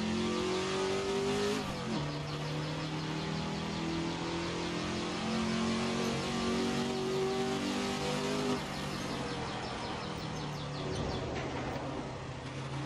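Ford GT40 engine in Assetto Corsa revving hard and continuously, with rising and falling pitch sweeps as gears shift, loud and close throughout with no talk.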